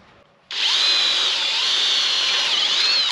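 A power drill starts abruptly and whines steadily at high pitch for about three seconds as it bores into a radiator, loud and close, with no talking.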